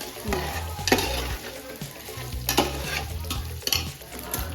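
A spoon stirs mashed potatoes around a pot of curry, giving a steady scraping, shuffling sound over a continuous frying sizzle, with a few louder knocks against the pot.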